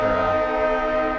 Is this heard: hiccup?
no